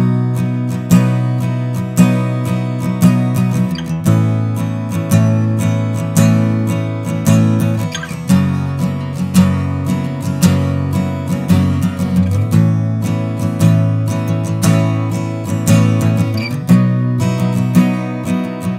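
Acoustic guitar treated with a FabFilter Pro-Q 4 spectral dynamic boost plays a bright, rhythmic strummed pattern, steady and close, with crisp pick attacks repeating about every second and ringing chords between them, no voice present.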